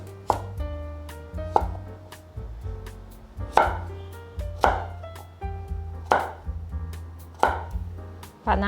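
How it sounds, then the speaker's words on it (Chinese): A knife chops through the stem of a pumpkin on a board in about seven sharp, close knocks, spaced roughly a second apart, each followed by a short ringing decay over a low background hum. "先把南瓜的蒂头切掉"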